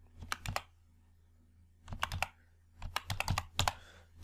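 Keystrokes on a computer keyboard, several quick bursts of close, crisp clicking separated by short pauses over a low steady hum.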